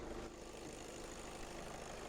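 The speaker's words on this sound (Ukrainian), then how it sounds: "Двигун працює" A 2019 Skoda Octavia 2.0 TDI diesel engine idles steadily, a continuous low rumble with an even hum and no voices.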